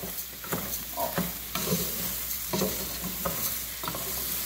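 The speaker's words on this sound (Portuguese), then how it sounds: "Deixa o arroz fritar." Three cups of washed rice fry in a pan with calabresa sausage, hissing steadily while a spoon scrapes and stirs in repeated strokes, close and clear, with no voices.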